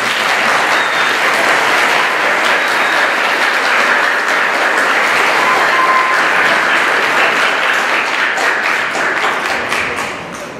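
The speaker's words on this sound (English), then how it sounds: "So please give her a big round of applause." Audience applause at a school winter concert, dense sustained clapping from a full room, loud and steady for about ten seconds before beginning to taper off, with no voices over it.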